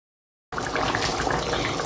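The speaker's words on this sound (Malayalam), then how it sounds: "ഈ കോക്കനട്ട് മിൽക്ക് നമുക്ക് അതിലേക്ക് ഒഴിക്കാം" Coconut milk is poured into a pan of mutton: after a brief silence, a steady liquid splashing and gurgling starts abruptly and runs on evenly, close by.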